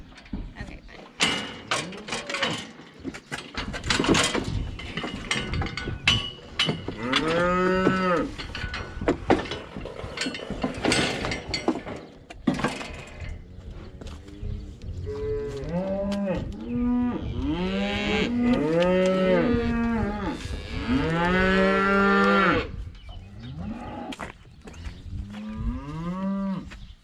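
A cow mooing in a barn, letting out several long, drawn-out moos in succession, some rising and strained, with clanking metal and mechanical rattles between calls and a voice talking in places.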